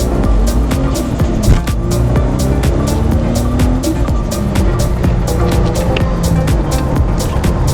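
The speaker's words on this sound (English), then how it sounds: "We've just hooked up that turbo side intake, and I'll give it a rip so you can listen to what it sounds to." A Toyota FJ Cruiser fitted with a turbo side intake revs its engine, heard from inside the cabin: a loud, sustained drone that climbs and settles in pitch with rising whooshes over the engine note.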